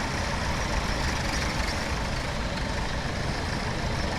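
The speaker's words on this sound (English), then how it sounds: "Tractor's noisy in the foreground, ticking over, both of them." Two tractors idle in the Farming Simulator 17 video game, a steady, even engine drone that ticks over without change, fairly quiet, with no talk.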